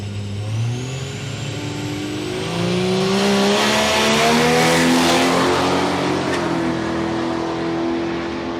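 A Ford Cortina drag car launches on the drag strip at Palmyra Raceway, Australia, its engine revving up through rising gear pitches into a loud, sustained roar that holds, then eases slightly.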